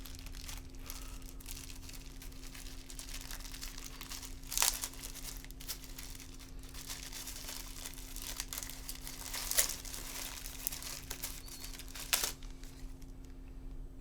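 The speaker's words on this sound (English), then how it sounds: "Actually, I'll unwrap it right now." Plastic packaging for a wireless in-ear monitor system crinkles and tears up close and fairly quiet, with steady rustling and a few sharper rips, over a constant low hum.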